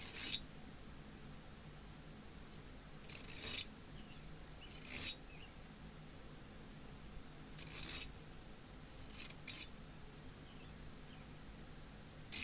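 Scissors snip through a piece of sandpaper in a woodturning shop, with short crisp rasping cuts in separate bursts and a couple of quick double snips, close and fairly quiet with no talking.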